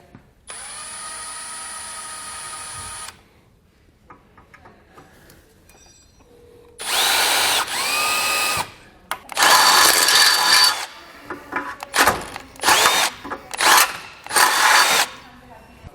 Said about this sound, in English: start with a small drill bit and then step up until I get to a 1/2 inch.